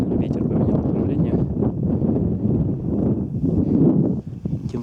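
Strong gusty wind blowing across a mountain ridge with snowfields and thick fog, a loud steady roar buffeting the microphone throughout.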